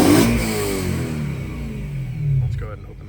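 BMW E90 M3 with a Mach Schnell X-pipe, a stainless steel Bomiz rear section and the exhaust valves closed, revving hard at first then dropping back, with a second, smaller rise in engine note near the end.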